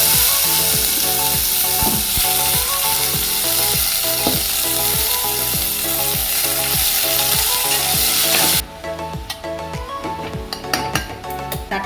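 Shredded cabbage frying in a hot pan, loud sizzling with repeated rhythmic scrapes and clinks of a spoon stirring against the metal, then the sizzle drops off sharply and leaves quieter clinks and stirring.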